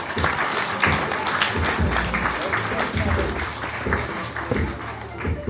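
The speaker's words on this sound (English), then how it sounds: "Give her a round of applause." An audience at a bar show at the Horseshoe Bar breaks into steady, sustained applause, a dense wash of clapping hands lasting several seconds, fairly close and continuous.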